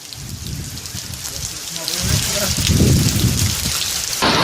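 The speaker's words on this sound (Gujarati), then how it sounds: "તેજ પવન સાથે વરસાદ જામ્યો છે" Heavy rain with strong wind pours down hard with a gusty, roaring wash that grows louder midway, drumming steadily on surfaces nearby, in a coastal area of Rajula, Amreli.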